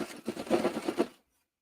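Serger overlock sewing machine stitching a seam, a brief rapid mechanical chatter of needle strokes lasting about a second before stopping abruptly into silence.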